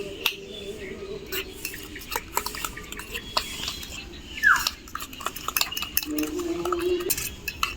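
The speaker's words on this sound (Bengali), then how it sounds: "এবার একটি কাঁটা চামচের সাহায্যে ডিমটা ভালো মতো ফেটিয়ে নিব।" An egg beaten with a fork in a bowl while making a hotel-style Moghlai paratha, giving a steady run of light clicking and scraping strokes, with a few sharper clinks against the bowl.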